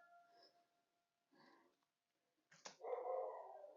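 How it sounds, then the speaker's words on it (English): Dogs bark in the background, faint and distant: two short soft woofs followed by a louder burst of barking that carries on to the end. "There's the doggies again."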